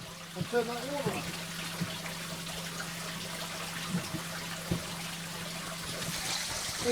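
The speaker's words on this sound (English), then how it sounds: "And turn that water on." Water from a tap runs into an aquarium during plant trimming, a steady soft trickle and splash beneath a low constant hum, with a few faint knocks and handling noises.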